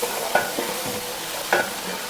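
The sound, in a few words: garlic paste and dal frying and being stirred in a pan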